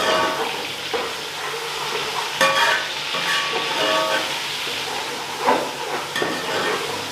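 Garlic ginger paste frying with onions in a pot for fish biryani, a steady sizzling hiss broken by several clattering stirs and spoon knocks, close and fairly loud.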